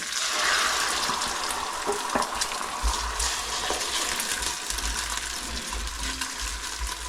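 Eggs sizzle steadily in hot, slightly browned butter in a pan, a constant crackling fry with occasional soft pops and a low rumble underneath, close and alone without talk.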